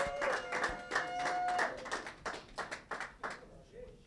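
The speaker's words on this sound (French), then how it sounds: "Est-ce qu'on peut applaudir très, très, très fort?" Guests at a wedding nuptial blessing clapping, a dense burst of applause that thins into separate, uneven claps, with whoops and voices mixed in.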